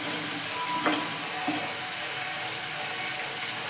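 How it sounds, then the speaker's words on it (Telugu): Rice fries in a pan with a constant, fairly quiet sizzle and a couple of faint utensil clicks, no voices. "కాసేపు బాగా వేగాక కాసేపు మనం వేగనిద్దాం."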